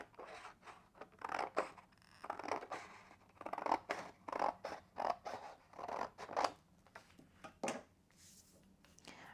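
Scissors snip repeatedly through a scrapbook paper border strip, a steady run of short crisp cuts close by with slight creaking, no talking.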